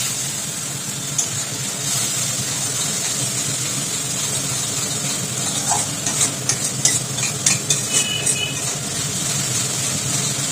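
Spices with turmeric and salt frying in a pan for Bengali pabda fish curry, a constant loud sizzle with a spatula scraping and clattering in quick irregular strokes during the second half.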